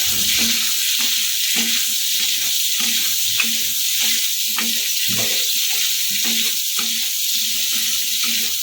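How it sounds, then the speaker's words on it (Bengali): Potatoes dusted with a little turmeric sizzle steadily in a hot pan, with the repeated scrape and clatter of a spatula stirring them every half second or so, close and loud, with no talking. "আলুর মধ্যে দিয়ে দেবো অল্প একটুখানি হলুদ গুঁড়ো বেশি দেওয়ার দরকার নেই এটাকে ভালো করে নাড়াচাড়া করবো"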